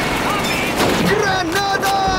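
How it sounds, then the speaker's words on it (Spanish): Gunfire from an MG-42 machine gun in the Call of Duty 2 video game, a dense continuous clatter of shots over 2 seconds, mixed with shouted voices and battle noise. "¡Es una MG-42!"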